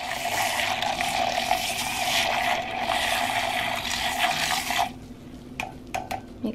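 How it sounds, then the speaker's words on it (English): A small whisk stirring warm water in a container, a close, steady sloshing and rattling that runs continuously and then stops abruptly, leaving a few faint clinks near the end. "So I mix it up with my little whisker."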